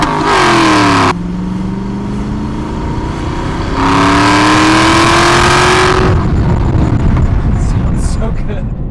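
A 2007 Aston Martin V8 Vantage engine revs loudly and close by, rising and falling through a few blips with a burbling, throaty note and a brief pause between bursts.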